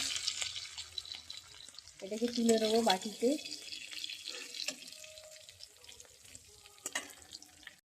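Prawns frying in hot oil, a steady low sizzle running under a person talking close by.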